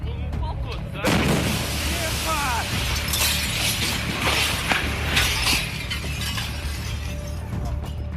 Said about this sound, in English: A massive shockwave hit the city.